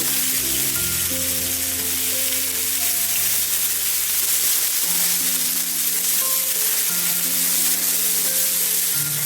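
Cauliflower cooks dry in a pan on low-to-medium heat with no water, giving a loud, even hiss and sizzle close by, with a faint low hum running underneath.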